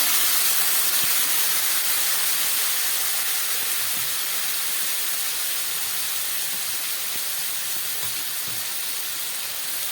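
Ground spices in a pan with a splash of water, giving a loud, continuous hissing sizzle that holds steady throughout, close up and with no speech.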